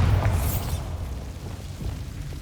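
In Hogwarts Legacy, a Bombarda spell goes off as a loud, deep explosive boom with a bright crackling burst, followed by a long rumbling tail that fades gradually.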